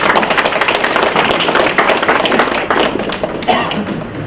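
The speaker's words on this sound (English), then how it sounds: "Please give him a clap." Steady crowd applause, dense and continuous, filling the whole stretch at a fairly loud level with no voices over it.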